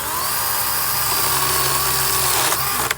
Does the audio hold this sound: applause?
no